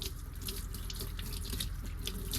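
Steady rush of hot water pouring from a faucet in a 2026 Forest River R-Pod 205 camper, a continuous hissing splash with no talking.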